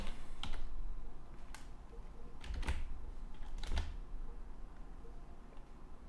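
Quiet, scattered keystrokes on a computer keyboard sound in a few sparse clusters of sharp clicks against a faint room hiss, with no voices.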